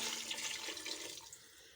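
Water pours steadily into lentils (dal) in a pressure cooker, a close, bright rushing splash that gradually softens and thins out over under two seconds.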